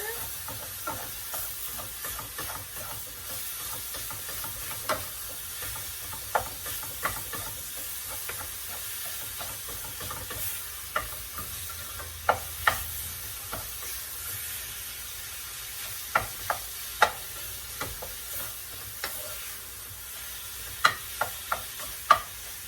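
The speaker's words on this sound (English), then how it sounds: "I'm going to give our ground beef a stir." Ground beef browning in a pan with a soft, continuous sizzle and hiss, broken by occasional light scrapes and taps of a utensil as it is stirred, moderately quiet and close.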